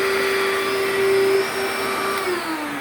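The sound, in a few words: Eureka vacuum cleaner running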